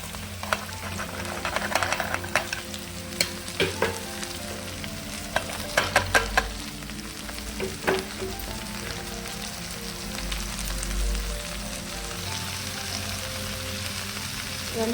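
Ivy gourd and potato curry cooking in a village-style pan, a steady close sizzle and crackle of frying with occasional stirring scrapes and clatters.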